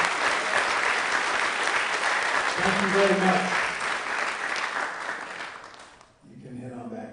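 Applause from an awards ceremony audience honoring female recipients, a full steady clapping that fades out near the end, followed by a voice speaking briefly.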